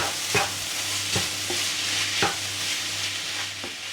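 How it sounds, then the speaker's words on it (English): Shrimp and rice fry in a wok for nasi goreng, a constant loud sizzle punctuated by repeated scraping and knocking strokes of the spatula, with a low steady hum beneath. "I'm moving the rice around and the shrimp, making sure that the shrimp and the rice are nice and cooked."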